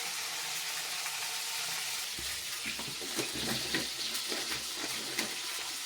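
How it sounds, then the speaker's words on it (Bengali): Boiled potatoes frying in very hot oil, a continuous soft sizzle that grows busier about midway with a few crackles and stirring scrapes, quiet and close. "এখানে আমার তেল গরম হয়ে গেছে, আলুটা আমি আবার ভেজে নেব"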